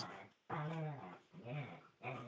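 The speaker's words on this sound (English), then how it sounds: "I am sorry that my dogs are being whatever they're being over there" Dogs whimpering and growling off to the side in a room, whiny yelps and low grumbles in short bursts mixed with a person talking.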